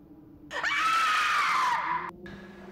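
A loud, sustained scream from a horror film trailer for The Mummy, rising sharply and holding for over a second before breaking off, with a faint voice murmuring underneath before and after.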